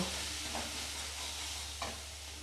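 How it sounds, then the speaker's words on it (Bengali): Tomato puree cooking down in a pan with turmeric and spices, a faint continuous sizzle with two soft stirring scrapes, close and quiet, without voices. "এই টমেটো পিউরিটাকে এবারে দিয়ে দেবো দিয়ে ভালো করে কষিয়ে নেব"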